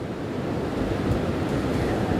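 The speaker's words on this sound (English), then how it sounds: "it's still pretty windy out here" Strong hurricane wind roars steadily at an ocean pier on the Outer Banks, with heavy surf churning underneath; a dense, continuous, loud rush of broadband noise buffets the microphone with no gaps and no voices.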